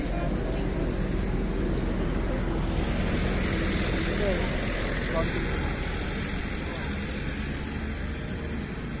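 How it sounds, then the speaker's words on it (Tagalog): Water fountain in Wright Park, Baguio City, splashing as a steady broadband rush, with voices chatting nearby over it. "Ayun yung fountain."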